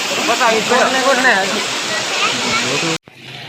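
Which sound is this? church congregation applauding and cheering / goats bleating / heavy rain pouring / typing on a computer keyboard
heavy rain pouring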